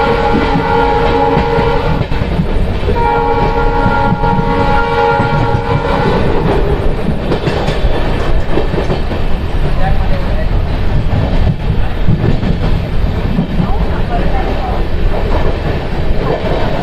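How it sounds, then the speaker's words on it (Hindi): The Howrah–Radhikapur Kulik Express, an LHB-coach train hauled by an Alco diesel, runs through Bandel with a loud, continuous rumble and rattle. A horn-like tone sounds early, and a voice talks over the noise. "ये एक लौता ऐसा एक्सप्रेस ट्रेन है, हावड़ा बर्धमान मेन लाइन से होकर गुजरता है, जिसका बैंडल में स्टॉपेज नहीं है"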